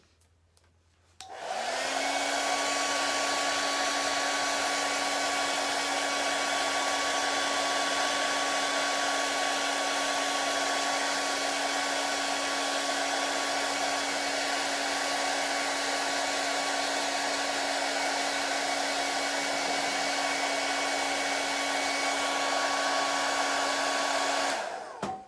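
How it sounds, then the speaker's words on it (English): A handheld hair dryer used to dry wet paint switches on and blows with a loud, steady whining roar for over twenty seconds, alone and unchanging until it cuts off at the end. "let me just get a hairdryer"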